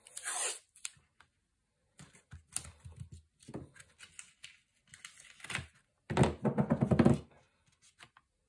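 Tape pulled off a roll and torn during a paper-craft accordion album build, heard as a few short, close ripping bursts with quiet gaps between them.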